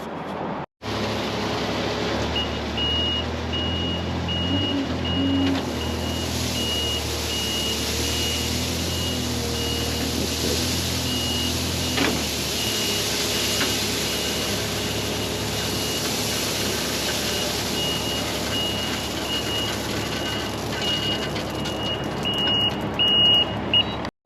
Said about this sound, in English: We're getting a loader over here.